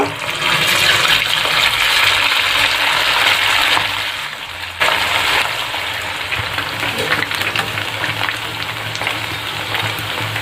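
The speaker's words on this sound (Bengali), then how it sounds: "আবারও ঠিক একইভাবে বাকি চিকেনগুলো ভেজে নেব।" Chicken pakoras deep-frying in hot oil for chilli chicken, a steady dense sizzle and crackle running throughout, close and loud, with a brief dip midway before the bubbling resumes.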